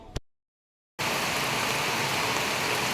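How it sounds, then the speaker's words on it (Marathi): Dense, steady downpour of heavy monsoon rain in a Konkan village starts abruptly after a brief silence, a loud continuous wash of drops that fills the rest of the clip. "पाऊस पण खूप जोरात चालू झाला आहे"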